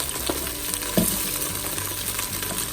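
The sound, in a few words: onions frying in olive oil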